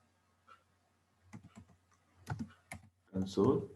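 Code is typed on a computer keyboard in scattered bursts of quiet clicks and key taps, close and sparse, with a voice speaking toward the end.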